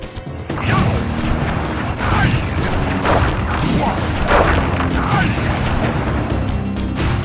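A rapid barrage of loud crackling firework explosions and bursts from a Sly Cooper video game attack, overlapping and continuous, with heavy booming impacts throughout.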